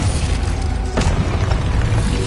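Glacius freezing spell cast in the Hogwarts Legacy video game, a sharp crackling burst near the one-second mark over dense, loud continuous game noise and rumble.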